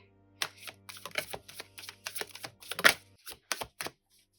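Tarot cards being shuffled and drawn during a reading, heard as a run of close, crisp papery snaps and riffles in quick irregular bursts, with a few sharper flicks toward the end and no talking.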